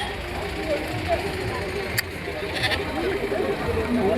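Sheep bleat in short wavering calls amid the steady crowd murmur and nearby talk of a busy livestock sale at a temple fair in Chadachan, the animal voices faint and partly masked by the din.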